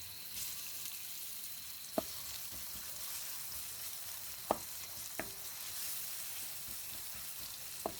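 Butter fish frying in mustard oil gives a faint, steady hiss, broken by a few sharp isolated pops or clicks, quiet and with no voices.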